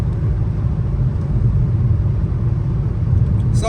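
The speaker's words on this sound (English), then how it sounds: "I'm about to pull in and hit a U-turn up here." A Dodge Challenger SXT slows to pull in for a U-turn, its engine a loud, continuous low rumble in the cabin, with a brief higher squeak right at the end.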